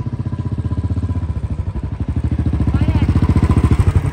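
A Royal Enfield Bullet motorcycle idles close by, its single-cylinder engine thumping in a rapid, even beat that grows slightly louder and quicker toward the end. No voices are heard over it.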